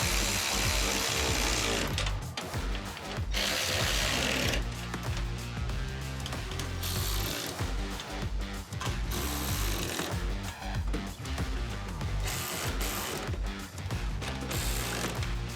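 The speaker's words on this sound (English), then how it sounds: "So at this point, we're going to bolt the frame down." A ratchet wrench clicks in rapid bursts while a frame for a base 12-volt electrical system is bolted down inside a Sprinter 144 van, close and loud with short pauses between runs.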